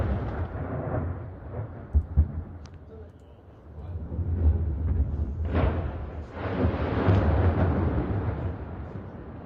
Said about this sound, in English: here's a video letting us hear the sounds and a little bit of the explosions themselves near the area of this town in southern Lebanon.